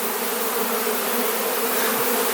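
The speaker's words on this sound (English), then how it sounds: "The queen's out, so I don't know what all this buzzing is." A dense, steady buzz of many honey bees swarming around an opened hive with a full, brood-less colony, loud and close throughout with no pauses.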